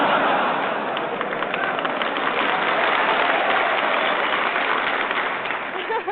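A large audience of Marines applauds at a 1944 radio show broadcast, a dense, steady wash of clapping holding at full strength throughout before easing slightly at the very end.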